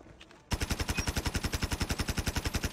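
The Bison gun in COD Mobile training mode fires a fast, steady, loud automatic burst that starts abruptly after a short quiet moment and continues without a break.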